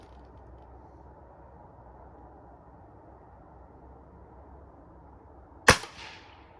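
A single sharp shot from a Diana Mod. 54 Air King air rifle fired on a shooting range, loud and close, with a short ringing tail after steady background hum.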